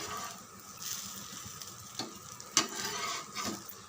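Corn dosa batter cooks on a hot pan with a soft continuous sizzle, punctuated by a few sharp scraping ticks from a spatula, fairly quiet and close.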